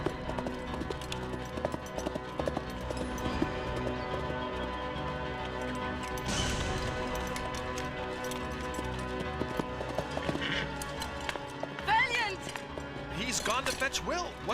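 Horse hooves clip-clop amid a busy scene, with voices talking over the rhythmic hoofbeats and occasional clatter.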